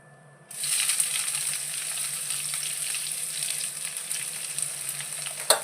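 Onion hits hot oil spiced with garam masala in a pan, bursting into a loud, steady, crackling sizzle that continues for several seconds close up, with a brief clink near the end and no talking.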